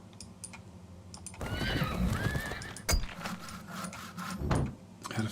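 Horses in the fantasy strategy game Elemental: Reforged give a loud, drawn-out whinny over a clatter of hooves, with more hoof clops and soft clicks after, and no talking.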